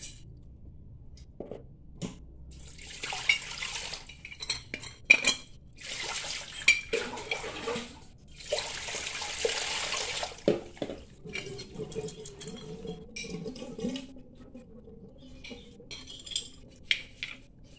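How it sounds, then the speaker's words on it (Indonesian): A wire brush scrubs a brass burner part of a Quantum gas stove after a vinegar soak, producing bursts of harsh, close scratching strokes followed by lighter scrapes and clinks. "kita bersihkan dengan sikat kawat semacam ini supaya nanti bisa bersih kembali"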